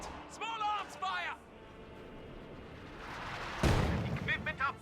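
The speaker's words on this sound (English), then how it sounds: "Contact! Small arms fire!" Small arms fire in a strategy war game, a distant rumble of shots under voices at the start and end, with a sudden louder burst of gunfire partway through.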